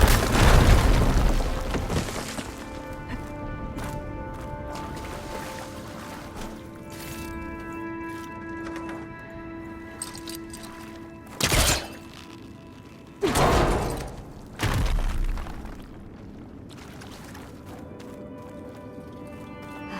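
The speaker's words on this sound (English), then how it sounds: "Should be able to blow up that fire gleam" A fire gleam blown up in Horizon Forbidden West: a sharp explosive blast up front, then ringing ambience, followed by several heavy thuds and bursts of impact, moderately loud against a quieter game background.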